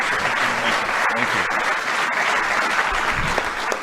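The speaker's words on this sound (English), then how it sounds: "can we just give another round of applause to the President of the United States" Sustained audience applause at a White House social media summit, a dense, steady wash of clapping from a large crowd that holds at full volume throughout.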